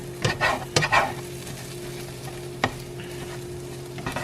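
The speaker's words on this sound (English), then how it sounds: "One thing I like with scrambled eggs is they cook real quick." Scrambled eggs with onion, garlic and spices cook in a hot buttered pan that they stick to, giving a steady low sizzle broken by a few sharp scraping stirs near the start and one later, with no talking.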